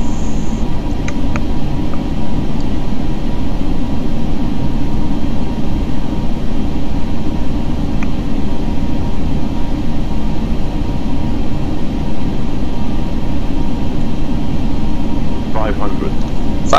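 Airbus A320 engines in a flight simulator game make a loud, continuous low rumbling drone throughout, with little variation, as the aircraft approaches to land.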